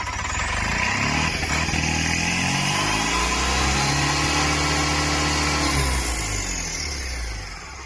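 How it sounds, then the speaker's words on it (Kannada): A motorcycle engine, with its exhaust pipe just refitted, revs hard and loud close by, the pitch climbing and falling through several throttle bursts before easing off at the end. "ಗಾಡಿ ಫುಲ್ ರೇಸ್ ಆಗುತ್ತೆ ನೋಡಿ ಗಾಡಿ."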